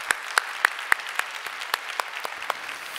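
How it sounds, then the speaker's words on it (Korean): Church congregation at a Sunday worship service in a Korean church clapping in thanks: a sparse, steady run of about a dozen distinct claps, evenly spaced and moderately loud, with no talk over them. "우리 하나님께 감사의 박수 올려드리도록 하겠습니다"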